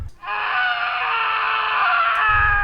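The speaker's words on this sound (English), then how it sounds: "And then he screamed." A man's drawn-out, harsh scream fills a spooky storytelling moment, loud and close, holding steadily for over two seconds.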